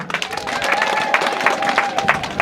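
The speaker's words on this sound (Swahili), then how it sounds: "mpige makofi kwake" A crowd at a CCM 49th anniversary celebration in Serengeti applauds a peace guard. Brief, moderately loud clapping rises in uneven bursts, with a ringing tone faintly underneath.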